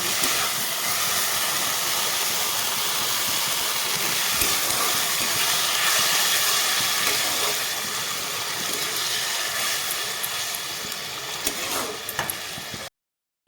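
Water poured into frying masala for an okra (bhindi) curry sets off a loud, steady hiss and steam roar that fills the whole clip, easing slightly toward the end before cutting off.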